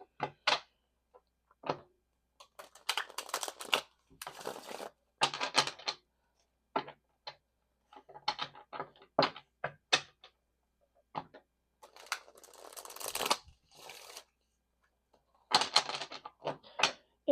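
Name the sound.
shuffling Rider-Waite tarot card deck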